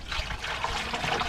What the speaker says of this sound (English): we're going to pour this solution into this pump-up sprayer